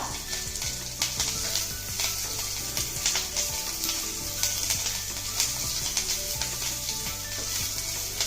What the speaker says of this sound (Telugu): ఐదు పచ్చిమిర్చి చీలికలు కొంచెం కరివేపాకు మీడియం ఫ్లేమ్ మీద వీటిని త్వరగా వేగనిద్దాం